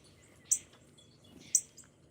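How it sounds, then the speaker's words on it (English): Bird chirps heard indoors: two short, sharp high chirps about a second apart, fairly faint over a quiet room background. "Oh gracious, I got birds."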